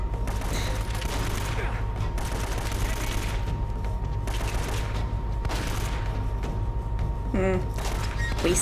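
Video game gunfire crackles in dense automatic bursts across the stretch, loud and continuous, with players talking over it.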